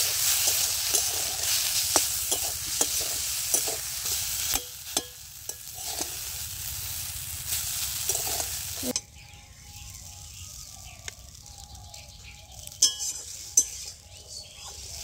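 Boiled Maggi noodles stir-fried in a pan outdoors at a jungle picnic, a loud close sizzle with spatula scrapes and metal clinks that drops to a quieter sizzle partway through, with occasional clatters.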